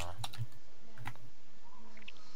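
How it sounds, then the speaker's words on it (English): Close keys clatter on a computer keyboard in a few quick bursts of clicks separated by short pauses, with no voices. "Really, Dark, you can just say what you're typing."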